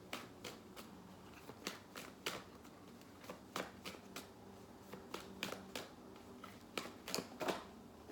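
Tarot cards are shuffled and pulled close by, producing scattered crisp snaps and flicks at an irregular rhythm over a quiet background.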